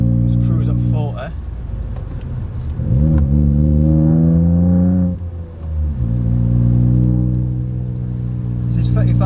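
Ford Fiesta Zetec S Black Edition fitted with a Cobra exhaust, heard from inside while cruising around 40 mph, a steady deep engine drone that swells as it accelerates and eases off, with someone talking over it.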